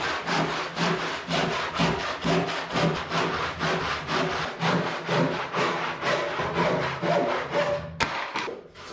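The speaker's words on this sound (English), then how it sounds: "I take care of most of that with a circular saw and finish it off with a handsaw." A handsaw rips through the wood of a workbench top to trim its edges, making fast, even back-and-forth rasping strokes close up, about three per second, that stop abruptly near the end.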